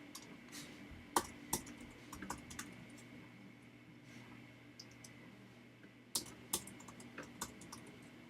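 Rapid keystrokes on a computer keyboard as a password is entered, quick clusters of sharp clicks with short pauses between bursts, close and fairly quiet, no voices.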